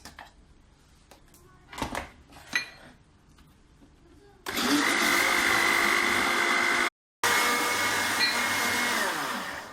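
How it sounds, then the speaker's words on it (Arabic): Eggs being blended into flan cake batter in a kitchen blender: a few light clinks and knocks come first, then the motor roars on loud and steady, cuts out for an instant and resumes. "غادي نحاول نخلط البيض معاهم مزيان"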